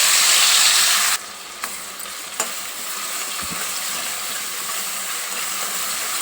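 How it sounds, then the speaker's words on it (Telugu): Sliced onions with cinnamon, cardamom, cloves and cumin seeds fry in hot oil, giving a loud, steady sizzle and hiss with a few brief clicks of stirring. "ఇది మంచిగా బంగారు కలర్ వచ్చేదానికి వేయించుకోవాలి, గోల్డెన్ బ్రౌన్ కలర్."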